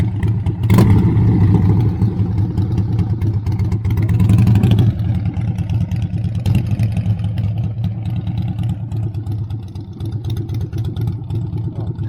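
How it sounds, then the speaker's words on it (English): A motorbike engine runs steadily at close range, giving a loud, continuous low rumble with a brief rise in revs near the start and no talking over it. "Bike sounds nice"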